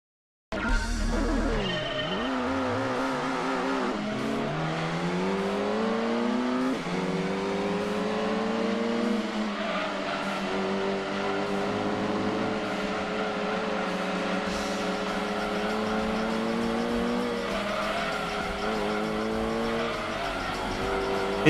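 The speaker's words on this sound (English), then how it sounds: "Listen to it rev. It's just nothing. It's like brum brum brum brum woo." A car engine revving in a retro racing video game, a continuous loud synthetic engine tone that climbs and dips in pitch as it accelerates and shifts, with brief squealing tire sounds.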